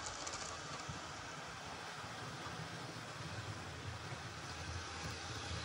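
A steady low rumble and rattling hum of a small model train running along track, continuous and fairly quiet throughout.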